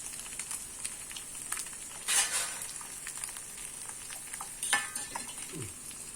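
Beaten egg for an omelette fries in a pan and is stirred, with a soft continuous sizzle broken by two brief, louder scraping strokes of the utensil against the pan. Quiet overall, with no talking.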